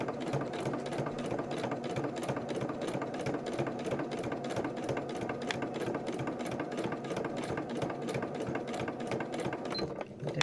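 A sewing machine runs steadily, stitching Gelli-printed fabric straight onto a journal lining, its needle clattering in a fast, even rhythm that stays close and loud throughout.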